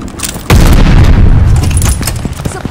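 An explosive charge detonates in a military shooter video game, a single loud sudden boom that rolls into a rumbling tail.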